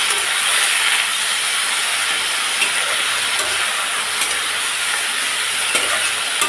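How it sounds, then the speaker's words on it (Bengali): Vegetables frying in a hot pan until reddish-brown give a steady, dense hiss that stays close and fairly loud throughout, with faint scraping and stirring and no voices. "সবজিগুলোকে এখন আমি একটু ভেজে নিই লাল লাল করে।"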